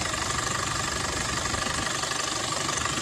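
A used Isuzu TFR pickup truck engine idles steadily with a low, rough rumble and a faint knocking throb, continuous and close, with no voices.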